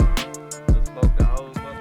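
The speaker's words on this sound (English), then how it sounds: "I initially meant to have these trap drums keep going." Trap drum beat built with punchy low kicks and crisp hi-hats, playing a sparse, clean groove with strong bass hits roughly every half second and no talking.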